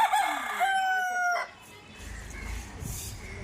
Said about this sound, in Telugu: పక్షుల సౌండ్‌లు, కోళ్ళు, ఆవులు, మేకలు ఒక్కటన్నా ట్రాన్స్‌పోర్ట్ వెహికల్ సౌండ్స్ లేకుండా